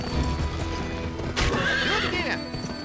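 A horse gallops with rapid hoofbeats and gives a loud whinny partway through in the Western video game Gun, with steady clip-clop under an ambient game soundtrack.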